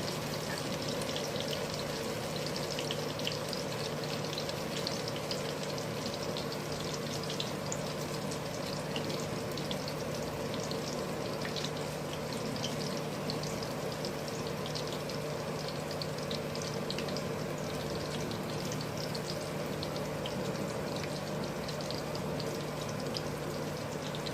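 Onion pakoras frying in mustard oil, a steady dense sizzling hiss with fine crackling that holds evenly and close throughout, with no voices.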